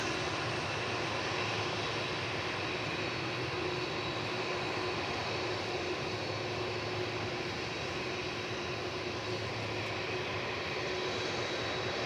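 A UPS Boeing 747-400 jet at DFW Airport produces a steady, dense roar of engine noise with a faint high whine on top, holding at an even level throughout with no voices.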